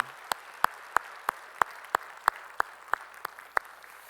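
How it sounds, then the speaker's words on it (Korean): During a Korean Sunday worship service, a church congregation claps together in a steady, evenly spaced beat, about a dozen sharp unison claps, moderately quiet. "우리 찬양 박수 주님께 영광의 박수 올리겠습니다."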